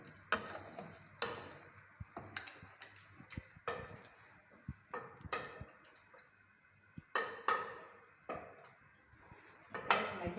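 Beef stew being stirred in a pot, giving repeated scraping and clinking strokes at an irregular rhythm, with a soft sizzle running underneath throughout.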